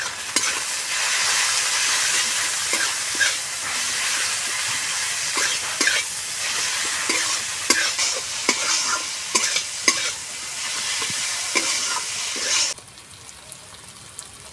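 Raw bhola fish with turmeric, salt, cumin paste and chili paste sautés in a pan, a continuous close sizzle broken by frequent spatula scrapes and stirring clacks, cutting to a much quieter hush for the last couple of seconds.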